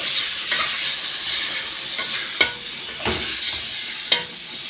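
Lamb sautéing in ghee in a pot makes a soft, steady sizzle, broken by a few sharp scraping stirs of a spoon.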